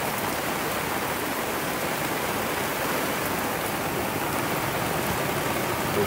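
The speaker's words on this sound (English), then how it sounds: "it's pretty calm, but just tons of rain" Steady, heavy rain from Hurricane Elsa pouring down on a sailboat at anchor in a dense, unbroken hiss, with no voices or other sounds breaking through.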